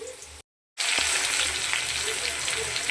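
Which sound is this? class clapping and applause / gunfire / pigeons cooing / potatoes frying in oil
potatoes frying in oil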